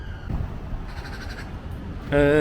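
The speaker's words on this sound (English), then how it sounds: "Here it is magpies." Magpies calling on a wasteland beside the approach road to Ardwick station: a few harsh, rasping calls, then a louder, ringing harmonic call near the end, with faint outdoor background throughout.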